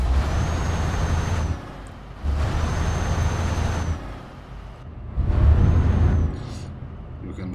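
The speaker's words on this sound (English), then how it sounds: "Just a very loud engine." A loud, rumbling truck engine in the game Euro Truck Simulator 2 roars in repeated bursts, swelling and dropping three times with broad noisy rushes, close and without talk.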